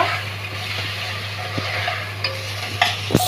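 Tomato sautéing in a pan for dal khichdi, a continuous close sizzle with a low steady hum beneath and a few sharp spatula taps and scrapes near the end.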